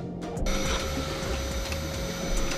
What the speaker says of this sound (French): L'aspirateur, à toi de jouer.